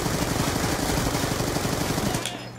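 Automatic gunfire rattles in Black Ops 2, a loud, dense burst of rapid shots, likely aimed through a wall, continuing for about two seconds before stopping.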